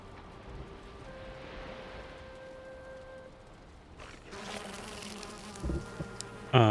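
Bees in the game Valheim drone with a steady buzz through the first seconds, then busier, louder activity with scattered clicks and a sharp burst at the end.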